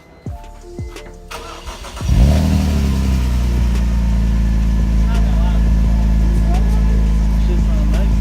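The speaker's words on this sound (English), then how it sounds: "Active Auto Works exhaust cold start for the vlog." BMW E46 ZHP fitted with an Active Auto Works exhaust fires up from cold, then settles into a loud, steady high idle with a deep droning exhaust note, preceded by a few seconds of quiet background bumps and voices.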